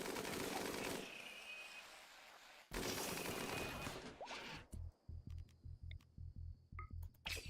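A deployed turret fires bursts at mechanoids in RimWorld, with heavy dense gunfire at first, then a rapid run of short, evenly spaced shots, loud and close, with no talk over it.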